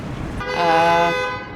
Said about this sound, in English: The lovely ambient sounds of New York City